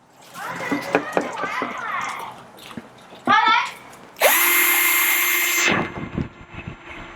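Power drill driving a screw into a wooden farmhouse step stool, a loud sustained high whine lasting over a second after a few shorter bursts, with speech and workshop knocks around it.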